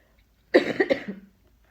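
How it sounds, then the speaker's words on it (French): A single short fit of coughing from a woman in incense smoke, a few rough bursts close by, followed by quiet. "c'est l'encens qui me fait tousser"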